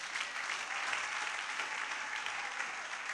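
Church congregation applauding loudly after a sermon by an apostle, a dense, steady wash of clapping that holds at an even level for about three seconds with no voices over it.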